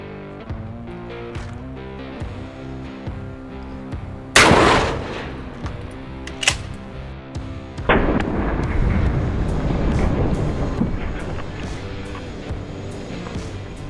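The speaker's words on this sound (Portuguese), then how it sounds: "Livre para disparo" A shotgun fires a loud boom against a noisy background, followed by a second sharper crack and then a long rumbling roar that fills the rest.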